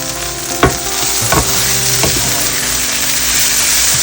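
Ivy gourd (tindora) stir-frying in hot oil for a Kerala mezhukkupuratti, with a steady loud sizzle and a few sharp scrapes of a spatula stirring through the pan.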